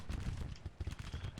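Militia musket and rifle fire in a war game crackles in a quick, uneven string of distant shots and pops over low rumble, continuing through the short clip.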